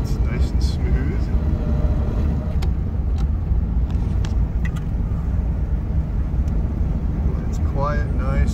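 A 1933 Lincoln KB V-12 Judkins Coupe with synchromesh transmission driving along, its engine a steady low drone that runs unbroken throughout, with people talking faintly over it.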